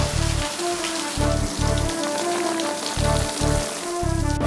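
Heavy rain pours down steadily in a dense, close hiss on an outdoor street, with deep thudding music pulses running underneath throughout.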